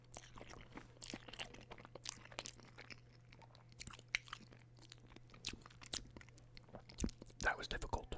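Close, quiet crunching bites and chewing of Wendy's cheese fries in a late-night setting, irregular crisp crackles scattered over a steady low hum, with some faint voices in the background.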